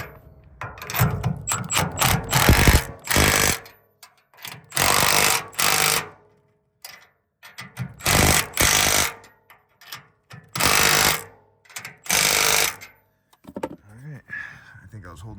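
An impact gun drives 19 mm nuts onto a Ford F350 6.7 Powerstroke. It fires repeated loud hammering bursts, each lasting about a second, with short pauses between them, very close by and with occasional talk in between.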